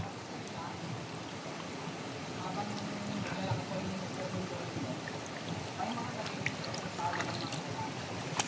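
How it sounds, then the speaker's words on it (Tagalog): A strong stream rushes and splashes in a steady, broadband roar of flowing water, fairly loud and close, continuing unbroken throughout with small splashy bursts. "Lakas ng agos."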